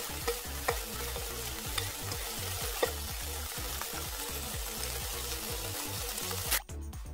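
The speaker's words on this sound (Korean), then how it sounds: "소고기도 중불에서 볶다가 어느 정도 익으면 강불에서 수분을 날려버리며 빠르게 볶아줍니다" Beef stir-fried quickly over high heat in a pan to drive off moisture, a steady loud sizzle with rhythmic scraping strokes of stirring throughout, ending in a brief drop near the close.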